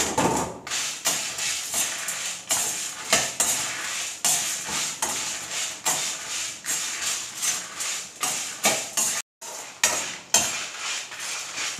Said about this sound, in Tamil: இப்போ நாம் மிளகு, காஞ்ச மிளகாய் இது ரெண்டையும் ஒன்றா சேர்த்து வறுத்துக்கலாம்.